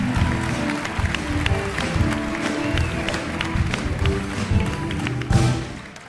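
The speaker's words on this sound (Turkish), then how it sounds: "Gel bir alkışlar alalım." Turkish TV talk show studio audience on Beyaz Show: steady clapping from a crowd, moderately loud throughout, with a voice speaking over it.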